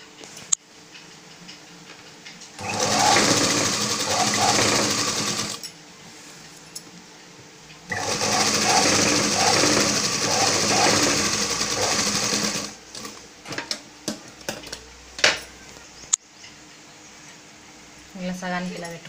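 Domestic sewing machine stitching a dhoti dress, running in two long steady bursts of rapid whirring with quieter pauses and small clicks between them, close up.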